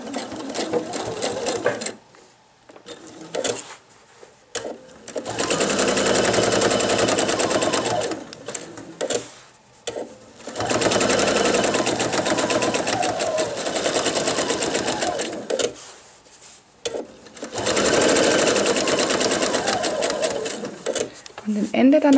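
A sewing machine runs a seam around a men's wallet with a 0.7 cm seam allowance, in three long steady runs broken by pauses, with backstitching at the ends, close and loud, with a voice talking between runs.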